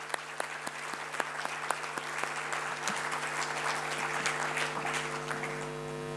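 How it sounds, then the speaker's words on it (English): Audience applause at a wildlife photography awards event, steady clapping from a moderately sized crowd heard somewhat distant and quiet over a constant electrical hum. "let's give him a big applause for that."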